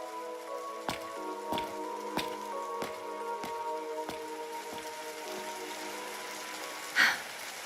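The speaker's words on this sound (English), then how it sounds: "Why'd it have to rain?" Rain in the video game Trails Through Daybreak falls as a steady, soft hiss with a few sharp drip-like ticks at regular intervals and one brief louder splash near the end, with no voices.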